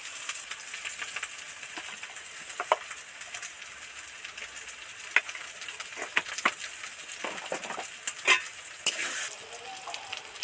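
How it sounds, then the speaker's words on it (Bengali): Poppy seed and melon seed paste mixed with turmeric and chili powder, soft wet stirring with scattered clicks over a steady hiss, close and quiet with no talk. "হলুদ লঙ্কা আর চালমগজ পোস্ত ভালো করে মিশিয়ে নিলাম"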